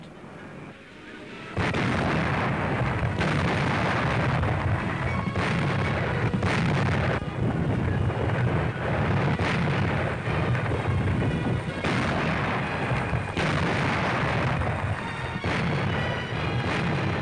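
Naval bombardment in a 1944 newsreel covering Allied landings on the Riviera: continuous heavy artillery fire with booming blasts every second or two over a dense rumbling wash, loud and distant-sounding, no talking.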